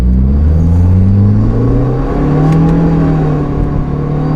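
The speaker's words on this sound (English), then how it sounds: "Alright, first gear. Go!" A Subaru WRX Limited accelerates hard in first gear on a race track, its engine droning loud and close with pitch climbing steadily as it revs, plus a faint whir beneath.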